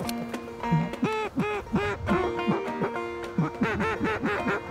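Loud, close duck quacks repeat in quick irregular bursts during a waterfowl hunt in British Columbia, several birds calling over one another with little pause.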